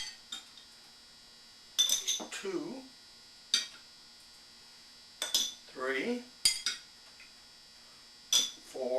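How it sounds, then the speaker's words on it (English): Eggs drop one at a time into a small glass jar, each landing with a sharp clink followed by a short rattle, spaced a couple of seconds apart while a voice counts between them. "drop in eggs"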